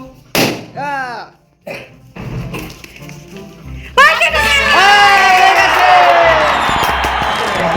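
A few sharp, loud pops ring out as balloons burst in a balloon-popping prize game, separated by short pauses, with excited voices, squeals and chatter around them.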